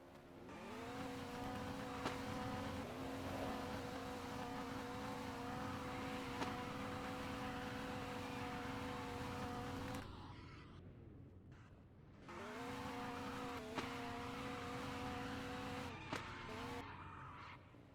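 A Mazda RX-7 drifts in the Roblox game Prodigy Drift, its engine droning at a high sustained rev with tire squeal, cutting out briefly around the middle before revving back up loud and steady.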